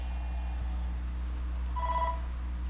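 Christmas lights for outside a shop give a brief electronic telephone-like ringing trill, moderately loud over a steady low hum.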